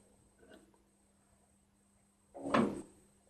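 A bicycle cassette lock ring is loosened with a tool, producing a small faint click and then a single sharp, louder crack as it breaks free, in an otherwise quiet workshop.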